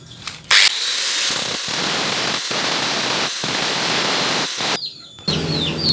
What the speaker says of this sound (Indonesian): Ini kita bubut pakai bor gerinda ya